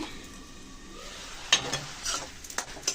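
Potatoes and shrimp fry in a pan, giving a low, quiet sizzle, then a few sharp scraping and clinking stirs in the second half.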